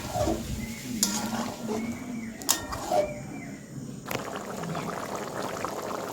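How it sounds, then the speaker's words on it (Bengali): Chicken curry being stirred in a pan after water is added: scraping and clinking of a spoon against the metal pan, with a few sharp knocks and a soft watery churn throughout, close and moderately loud. "তো জলটা দিয়ে আমি বেশ নাড়াচাড়া করে নেব"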